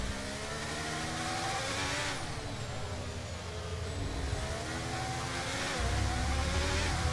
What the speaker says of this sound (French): Là, on va ressortir peut-être côte à côte avec Max Verstappen ou derrière.